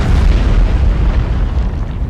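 A torpedo striking a warship in a submarine video game: a deep, loud, rumbling explosion that fills the whole moment and slowly fades, with no voices.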